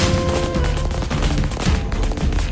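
Firecrackers at a firecracker shop burst in a rapid, continuous string of sharp cracks and pops, loud and dense throughout the short stretch.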